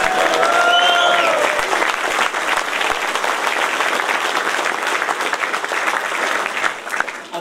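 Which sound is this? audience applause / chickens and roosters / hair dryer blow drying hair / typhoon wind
audience applause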